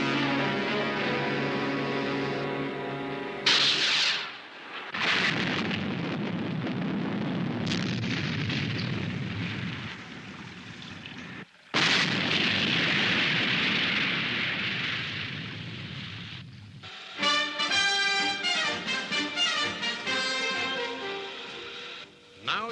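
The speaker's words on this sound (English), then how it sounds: "Prepare Delta missiles. And this time, shoot to kill." Delta missiles fired from a submarine craft in a Stingray puppet adventure, giving repeated loud explosive blasts and rumbling booms with bursts of crackling debris, some sharp onsets and a roaring tail, with no talk.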